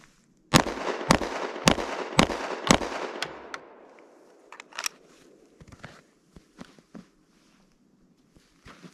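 Pistol shots ring out in a timed shooting drill at 7 yards, five rounds drawn from the holster: five loud, evenly spaced sharp cracks in quick succession, then faint clatter and a few scattered distant reports.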